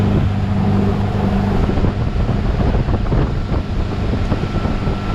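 A motorboat cruises at about 32 mph and 3,200 RPM on Lake Mohave, giving a steady, loud engine drone mixed with rushing wind and water noise that stays constant throughout.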